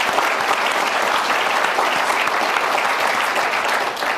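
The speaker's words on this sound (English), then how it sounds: "Can we have a round of applause for all of these people that do such a great job?" A large audience at an evening talk breaks into sustained applause, a dense, even wash of clapping that holds steady throughout.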